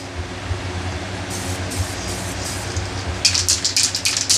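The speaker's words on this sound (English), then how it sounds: "it has to be wet when I'm done spraying it" A spray gun applies a 2K clear coat to a BMW 3 Series headlight. Short bursts of airy hissing rise over a low background rumble, then grow more frequent toward the end.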